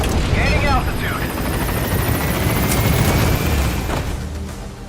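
Helicopter Pequod from Metal Gear Solid V: The Phantom Pain arriving at a landing zone, a loud, steady rotor roar filling the whole clip, with game radio chatter over it.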